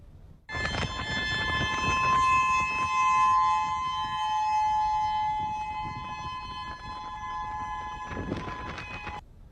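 Civil defense tsunami warning sirens in Hawaii wail loudly in a sustained, multi-toned drone for several seconds, with bursts of background noise at the start and end.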